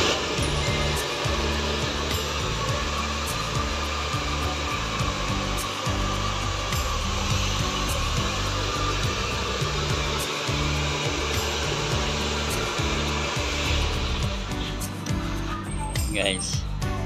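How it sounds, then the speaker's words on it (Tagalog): Several blow dryers drying hair in a salon during a rebonding and Brazilian keratin blowout treatment give a steady, loud whooshing roar that runs continuously, with people talking over it. "patuyo yung mga blower na yan"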